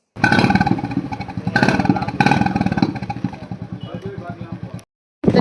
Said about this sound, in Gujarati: અવાજ સાંભળી લ્યો તમે સાયલેશન નો